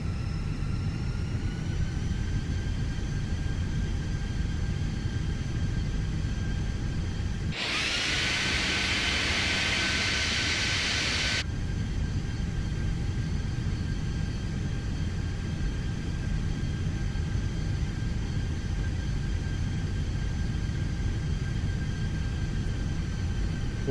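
An Airbus A320 taxiing on one engine in Microsoft Flight Simulator 2020 at Pensacola, Florida, gives a steady, continuous engine hum and rumble, with a brief burst of loud broadband hiss partway through.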